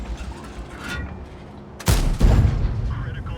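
A tank's main gun fires in a tank video game, sounding as a sudden loud boom followed by a second blast and rumbling aftermath, heard after quieter ambient game sounds.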